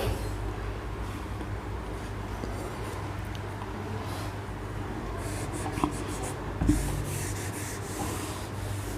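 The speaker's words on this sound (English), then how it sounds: "That's why here I am writing now." Writing on a board during a physics lesson, a faint scratchy rubbing of the marker or chalk strokes over a steady low room hum, a couple of small taps near the end, no speech.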